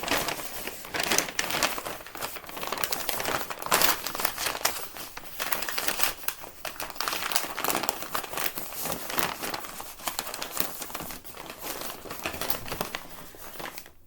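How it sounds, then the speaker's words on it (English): Packing tape is pulled and pressed over a shipping package, producing a continuous close crinkling rasp with rapid uneven bursts of tearing and crackling for about fourteen seconds, with no one talking. "And then just tape it up like a package."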